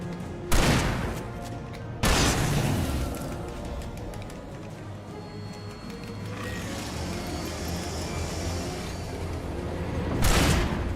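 Shotgun fire in the video game Alan Wake, three loud sharp blasts spaced several seconds apart, each standing out over a continuous rumbling ambient score.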